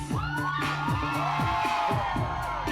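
A crowd at an outdoor stage show cheers and whoops for the performer, loud and continuous, with shrill shouts and rising yells layered over a music-filled, bustling backdrop.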